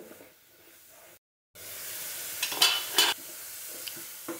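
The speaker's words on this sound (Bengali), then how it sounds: "একটু ভালো করে কষাবো।" Spices with turmeric are stir-fried in a pan for a fish curry with sour-leaf fruit, a close hiss rising after a short gap and punctuated by a couple of loud scraping stirs.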